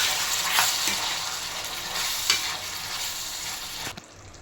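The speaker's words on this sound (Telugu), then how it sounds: "ఆనియన్స్ బ్రౌన్ అయిపోయి ఇప్పుడు ఈ చికెన్ని హై ఫ్లేమ్లో 5 నిమిషాలు మనం వేయించుకుందాం." Marinated chicken frying with browned onions over a high flame, producing a loud, dense, continuous sizzle with occasional stirring scrapes, close up, until it cuts off abruptly near the end.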